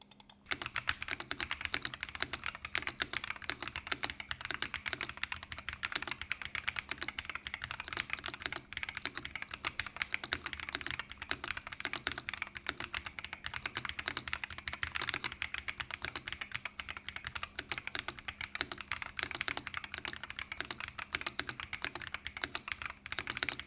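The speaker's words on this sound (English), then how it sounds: "the V4 Pro provides a surprisingly refined sound profile for a gaming keyboard" Steady, fast typing on a Razer V4 Pro 75% gaming keyboard with screw-in stabilizers, a continuous stream of close, crisp keystrokes with no talking.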